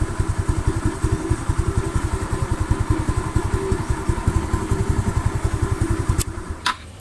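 A motorcycle engine idles steadily with a rapid, even putter throughout, close by, with a couple of sharp clicks near the end.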